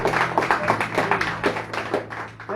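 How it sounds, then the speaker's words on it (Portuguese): A church congregation applauding together, a steady burst of many hands clapping at close range, with a low organ or keyboard drone underneath and a murmur of voices. "Vamos aplaudir bem forte para ele, merece?"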